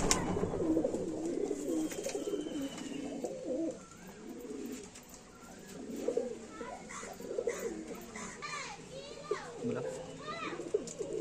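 Domestic Madrasi pigeons coo repeatedly at close range in a loft where they are nesting, the low rounded calls rising and falling over steady background bird noise, with faint children's voices in the distance.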